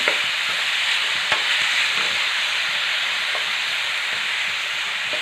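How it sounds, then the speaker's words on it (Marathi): Onions fry in oil until reddish-brown for egg bhurji, a loud, even sizzling hiss filling the whole stretch with a couple of faint stirring clicks. "आता कांदा आपल्याला छान असा लाल रंगावरती खरपूस असा भाजून घ्यायचा"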